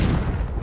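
Confringo explosive curse blast in Hogwarts Legacy, a single loud, dense burst of booming energy that fills the whole moment and fades slightly at the end.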